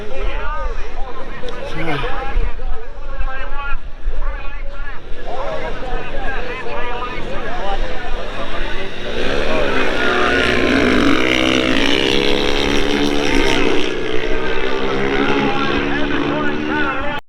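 Longtrack speedway bikes race down the Wallaroo sand drag strip against a Gas 750 in the final, engines rising and falling in a loud, close roar while a crowd murmurs and people talk nearby.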